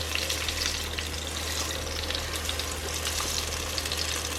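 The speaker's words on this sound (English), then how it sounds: "My mum taught me how to slow fry." Cabbage and carrot slow frying in a pan, giving a steady, close crackling sizzle with faint stirring scrapes throughout, no voices.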